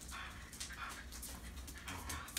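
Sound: dogs playing

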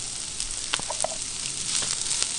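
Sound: onion slices sizzling in avocado oil in a pan

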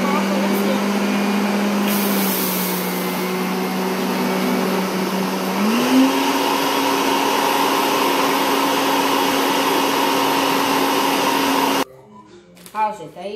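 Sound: blender running

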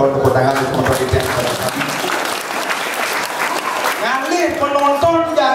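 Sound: audience applause

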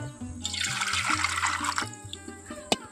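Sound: pouring hot water into a bowl

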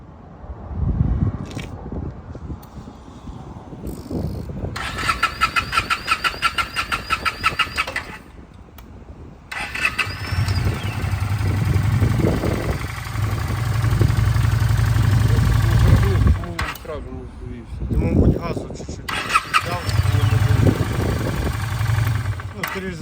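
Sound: Honda Shadow 400 Classic motorcycle engine starting and idling

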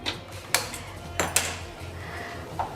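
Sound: frying pan being placed on the stove

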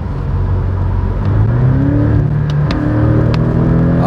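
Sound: Porsche 718 Boxster GTS accelerating at kickdown

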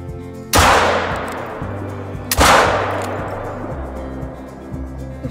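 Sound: gunshots from a hunting rifle in theHunter Call of the Wild video game

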